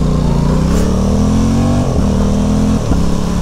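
A 2023 Aprilia Tuono 660 Factory parallel-twin motorcycle engine runs loud and close, revving up in a steady rising drone, briefly dipping between gear changes, then pulling hard again.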